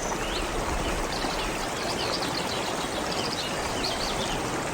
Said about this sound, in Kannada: ಪ್ರಶಾಂತ ಕಾಡಿನಲ್ಲಿ ಸ್ಫಟಿಕದಂತಹ ಸ್ಪಷ್ಟ ನದಿಯು ಭೂಮಿಯ ಮೂಲಕ ನಿಧಾನವಾಗಿ ಹರಿಯುತ್ತಿತ್ತು